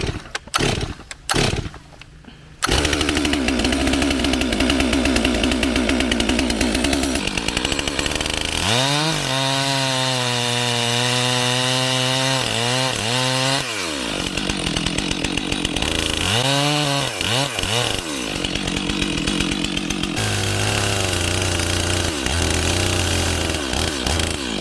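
Battery-powered professional top handle chainsaw cutting through a maple log: a loud whining motor that revs up and bogs down through several cuts, with brief pauses and pitch sweeps as the chain bites the wood, no talk.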